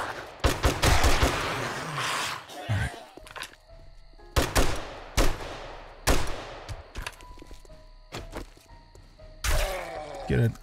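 Loud, close gunfire from the video game 7 Days to Die Rebirth 1.1 comes in several sharp bursts and rapid volleys separated by short gaps, with in-game thuds between them.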